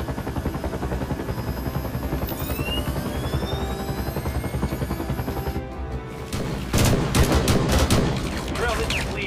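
In an audio drama, bursts of gunfire crackle over the steady thump of a helicopter's rotors, joined by a whooshing streak partway through and a rising barrage of loud, rapid shots near the end.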